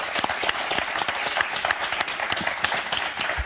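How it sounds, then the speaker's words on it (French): A game show studio audience on Motus claps steadily, dense even applause filling the room with no voices on top. "qu'on va applaudir très, très fort"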